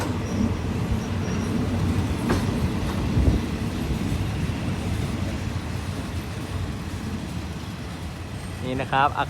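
GEA 4546 diesel locomotive hauling a parcel freight train at Ban Pong station in Thailand: a steady loud rumble with rhythmic wheel clatter, a faint squeal near the end, and someone talking over it.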